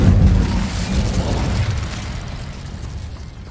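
An Incendio fire spell cast in the video game Hogwarts Legacy, a loud, dense whooshing burst with low rumble that flares at once and then slowly fades over a few seconds.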